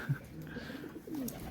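Gujranwala pigeons give a few soft, low coos close by at a loft, brief and faint, with one short call at the start and a longer one near the end.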